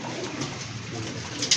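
Soft, low cooing of pigeons on a pigeon farm, a few birds murmuring steadily and fairly close, with faint ambient noise around them.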